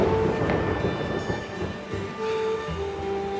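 A thunder sound effect in a TV comedy scene rolls as a low, heavy rumble that swells and fades over a few seconds, fairly loud, with no voices.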